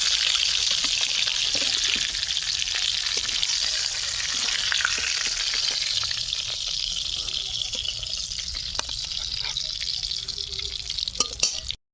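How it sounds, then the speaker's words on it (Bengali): Tilapia fish pieces frying in oil in a wok make a steady, close sizzle with a broad crackling hiss throughout and occasional sharp pops, heard alone. "দু সাইডে মাছ সুন্দর করে ভাজা হয়ে গেছে এবার তুলে নেবো"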